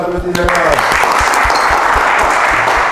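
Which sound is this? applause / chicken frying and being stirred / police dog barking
applause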